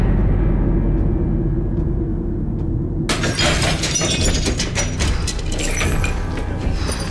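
Glass shatters loudly after a low rumbling buildup, a sudden crash followed by several seconds of tinkling, scattering shards.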